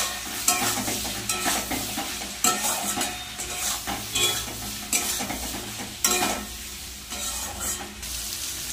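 Ground spices with cumin, chili and turmeric powder and salt being stirred and fried in a pan: loud close sizzling broken by regular scraping spatula strokes roughly every second, with no talking.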